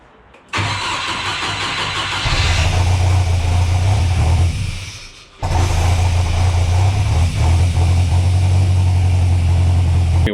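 A big-turbo 3.0L Mercruiser boat engine swapped into a Chevrolet S10 truck, starting and running loud and close with a deep, throbbing idle, dropping away briefly midway before firing up again.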